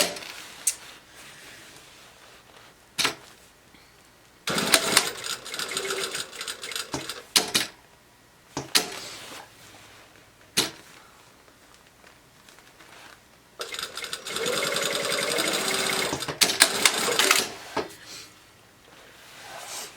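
A sewing machine stitching to repair a seam: several bursts of fast mechanical whirring and clatter of a few seconds each, separated by quiet pauses and sharp clicks, with no talk.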